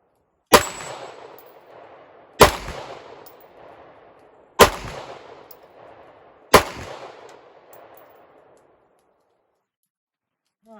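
Four sharp CZ-75B pistol shots ring out at roughly two-second intervals outdoors, each a loud crack with a fading tail, and nothing follows afterward.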